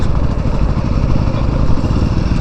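A Suzuki V-Strom SX 250 adventure motorcycle engine runs steadily while riding on jungle roads, a loud, continuous mid-range drone with a rough, clattering texture and no break.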